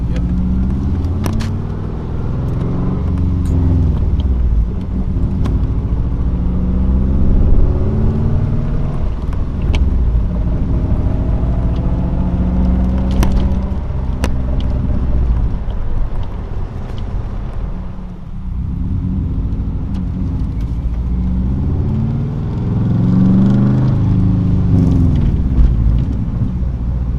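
From inside a race car driven with a manual clutch, a loud, steady engine drone rumbles close by, its pitch rising and falling with shifting and acceleration, briefly dipping once before building again.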